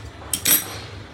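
A metal kadai is lifted out and handled in a home kitchen, giving two quick, bright metallic clanks close by in an otherwise quiet room.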